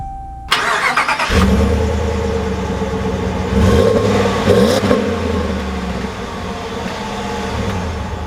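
A 2020 Ram 1500 Longhorn pickup starts up and pulls away, its engine rising into a loud, steady drive with a surge of revving midway, heard from inside the cab.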